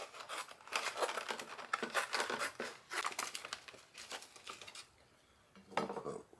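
Packaged steaks being opened for freeze drying, with plastic wrap crinkling and tearing in close, busy bursts, then a short quiet pause before one more rustle.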